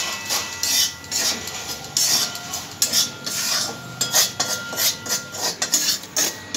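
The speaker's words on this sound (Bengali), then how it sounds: "এরপর আমি ভেজে নিচ্ছি। আর খুব বেশি ভাজবো না, হালকা করে ভাজবো, যাতে কাঁচা ভাবটা চলে যায়।" Gobindobhog rice being lightly dry-fried in a pan for pantua sweets, heard as rhythmic, fairly loud scraping and clinking of a utensil against the pan, repeated throughout without speech.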